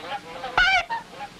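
A goose gives one loud, nasal honk, with fainter honks just before and after against a quiet outdoor background, in a Clutch Cargo cartoon.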